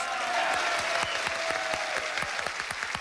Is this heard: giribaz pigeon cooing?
no